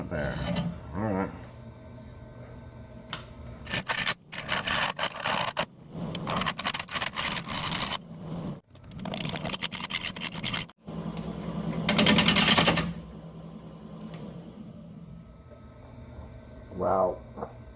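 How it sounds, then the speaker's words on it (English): A dense Live Oak bowl is being shear scraped on a wood lathe, producing loud, close, intermittent rasping bursts of hard scraping over the machine's steady hum, separated by short pauses. "I'm gonna do some shear scraping, see what happens"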